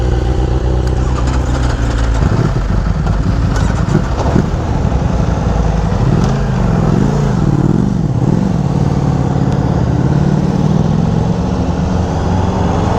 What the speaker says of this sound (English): A bunch of new bikes, and we're just going for a little cruise by the beach.